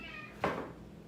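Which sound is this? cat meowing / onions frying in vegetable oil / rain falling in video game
cat meowing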